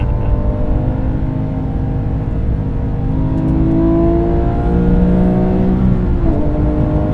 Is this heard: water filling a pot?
no